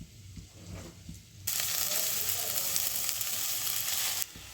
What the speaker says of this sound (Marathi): मटकी छान परतवून घ्यायची